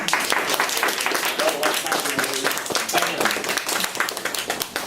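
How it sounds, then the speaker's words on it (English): Clapping at a kung fu black belt ceremony, a dense burst of audience hands with loud, sustained claps and some voices mixed in across the whole stretch. "I'd like to give these two a round of applause"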